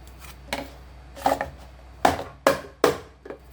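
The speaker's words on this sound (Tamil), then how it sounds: "இப்போ ஒரு பிளேட்டில் மோல்டு அப்படியே தட்டி எடுத்துருவோம்" Five or six sharp, hollow knocks as a mould of aval burfi is tapped down onto a plate, spaced irregularly and close by, with quiet gaps between them and no voices.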